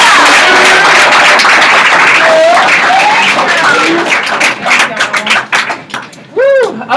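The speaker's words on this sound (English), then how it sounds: "So everybody clap it up for Denise." An audience at a training event applauds and cheers for Denise as she is brought up to close the session, dense clapping that thins into scattered claps near the end, with voices and a whoop over it.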